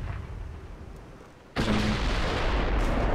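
Secondary battleship guns fire in the naval game Ultimate Admiral: Dreadnoughts, heard as a sudden loud burst of booming gunfire rolling into sustained heavy rumble after a quieter, distant stretch.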